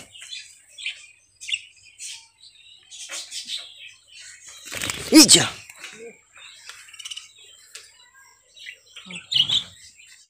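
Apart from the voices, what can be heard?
budgies chirping in cage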